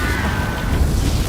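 A Confringo blasting spell explodes in Hogwarts Legacy, a loud dense boom with a rumbling, crackling body that fills the whole short moment.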